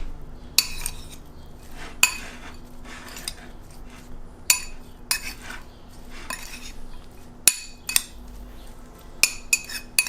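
A utensil scrapes and clanks against a pan while taco filling is mixed with salt and pepper, irregular sharp metallic knocks and scrapes, close and clear with no talking.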